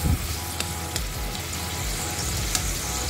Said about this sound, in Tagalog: Lagay ko na yung ampalaya. Gigisahin ko din yung kulay ng sibuyas